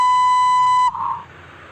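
A steady phone IVR beep tone holds for just under a second, clean and loud, then cuts off into faint line noise, with no speech.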